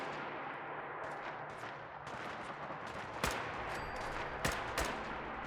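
Hip-fire gunshots in a first-person video game, faint scattered shots over a busy game background, with a few sharper, louder cracks standing out near the end.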